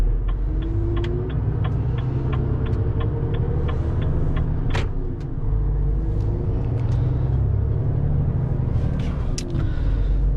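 A car pulls away from a customs post at the Norwegian border, its engine a steady, close, droning rumble that holds an even level throughout with no voices over it.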